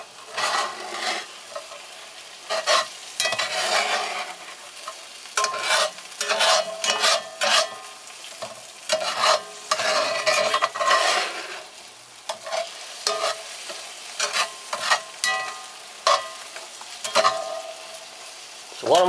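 Six eggs scrambling in a cast iron pan for breakfast burritos, with repeated scraping and stirring strokes of a utensil over a steady soft sizzle, close and fairly loud, no talking.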